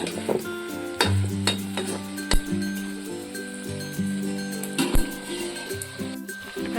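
Potatoes and spices fry in a pan over a village kitchen wood fire, with a steady sizzle broken by sharp clinks and scrapes of a utensil against the pot, close by and moderately loud.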